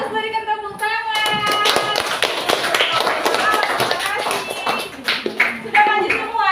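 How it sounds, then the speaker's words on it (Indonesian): Classroom of young children clapping together on a teacher's cue, a dense burst of many small hands that runs steadily throughout, with children's voices mixed in. "berikan tepuk tangan."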